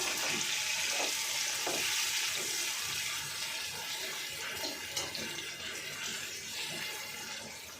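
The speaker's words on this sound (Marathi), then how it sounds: "आता त्याच्यामध्ये आपण थोडा टोमॅटो ॲड करूया, ते पण परतून घेऊया" Tomatoes sauté with eggplant and potato in a hot pan, giving a loud, steady sizzle and hiss throughout, with occasional soft stirring knocks close by.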